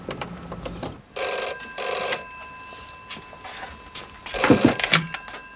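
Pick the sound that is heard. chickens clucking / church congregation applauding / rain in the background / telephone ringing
telephone ringing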